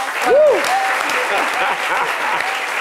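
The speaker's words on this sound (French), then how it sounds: "Espérance, merci de l'applaudir" A studio audience on a midday TV show applauds an assistant, with sustained clapping from many hands and a brief rising-and-falling vocal whoop near the start that rides over the crowd.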